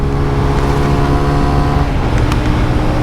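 A 2024 TVS Raider 125 motorcycle accelerating hard toward 100, its engine droning loud and close with a steady roar and heavy wind rush throughout.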